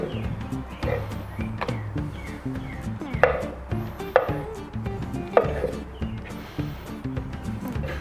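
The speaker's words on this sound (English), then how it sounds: "We'll just quickly go through and slice these" A knife slicing mushrooms on a cutting board, a steady series of close, soft chops and taps with a few sharper knocks.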